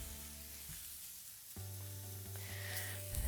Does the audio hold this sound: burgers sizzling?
yes